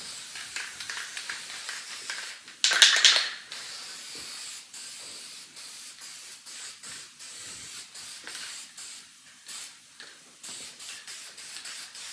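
Repeated short bursts of an aerosol spray can applying guide coat hiss close by, with one longer louder spray early on followed by many quick puffs.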